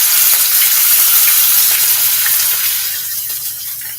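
A large pork chop sizzling loudly in a skillet, a dense bright hiss close by that eases slightly toward the end, with no voices.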